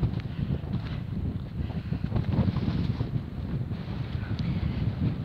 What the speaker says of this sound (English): Blowy up here though.